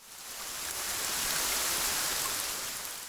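Rain falls steadily in a soft, even wash of noise, fairly faint and continuous, with no voices.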